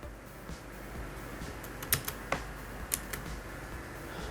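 Someone types a booking code on a computer keyboard, giving soft, quiet, irregular key clicks with a few sharper taps.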